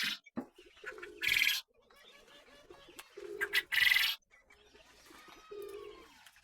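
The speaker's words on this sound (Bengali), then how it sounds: "এই হচ্ছে আমার কোয়েল পাখিগুলো" Quail call nearby in short, loud bursts, with softer chirps and rustling between them.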